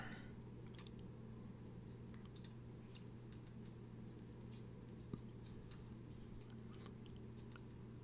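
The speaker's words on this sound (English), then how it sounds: "I need to make sure I'm using keystrokes too." Computer keyboard keystrokes while working in Affinity Designer, scattered quiet clicks at an irregular pace over a steady low hum, faint and close, with no talk.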